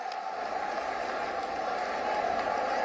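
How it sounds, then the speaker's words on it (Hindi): A large outdoor crowd at a Prime Minister's public rally in Siddharthnagar claps in a steady, sustained roar of applause, evenly dense and moderately loud throughout, with no single voice standing out. "मैं चाहती हूं जोरदार तालियों के प्रणाम आप माननीय प्रधानमंत्री तक पहुंचाएं।"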